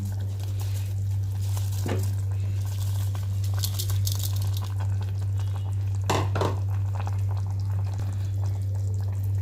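Water bubbles and simmers softly in a pot before rice is added for mint pulao, with occasional louder pops and a steady low hum in the background.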